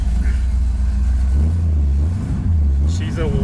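A Plymouth car engine fires up and revs, a loud, close, throaty rumble that rises and dips in pitch, with a voice briefly audible near the end.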